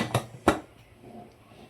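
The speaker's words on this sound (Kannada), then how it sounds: "ಇವಾಗ ಕುಕ್ಕರ್ ಕ್ಲೋಸ್ ಮಾಡ್ತಾ ಇದ್ದೀವಿ." Two sharp metallic clanks, close and distinct, as a pressure cooker lid is closed over mutton sambar, followed by quiet background.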